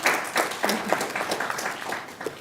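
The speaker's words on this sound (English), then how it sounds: "Round of applause." Applause in a board of commissioners meeting room, moderate and somewhat sparse, a small group clapping steadily for a couple of seconds with no talk over it.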